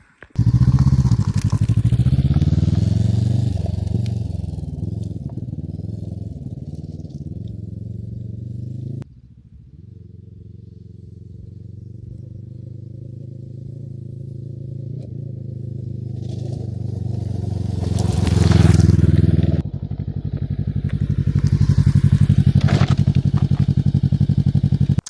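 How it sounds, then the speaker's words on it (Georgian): A Kove 525F scrambler motorcycle engine revs and rumbles as it rides along a rough dirt road after rain, pitch rising and falling with throttle, some rattling and scraping underneath. "წავედით, ნახოთ როგორი უვლის ჩვენი კოვე 525 სკრამბლერი გრუნტიან გზაზე, წვიმის შემდგომ"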